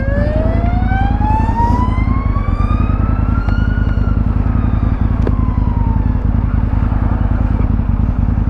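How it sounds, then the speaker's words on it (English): An ambulance siren wails with rising and falling tones over the steady drone of an Aprilia RSV4 Factory motorcycle engine, loud and close. "Ambulance."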